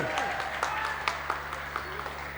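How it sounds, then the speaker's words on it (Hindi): Applause from the audience at a school annual programme as a guest headmaster is called to the stage, a thin scattered clapping with a few louder claps, heard faintly under background hum. "एक बार इनके लिए जोरदार ताली हो जाए"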